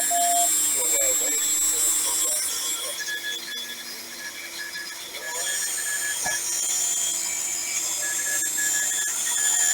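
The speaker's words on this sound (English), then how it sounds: "You listen to that, there's some nice code coming through." Morse code received on a QRP Pixie kit radio comes through as intermittent beeping tones over steady hiss and static, faint to moderate, with a clearer burst of keyed tones in the later part.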